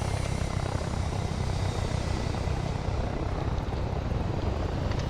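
A VTOL gunship lifts off in Arma 3 with a loud, continuous rotor-and-engine roar, dense and steady, filling the scene close by with no talk over it.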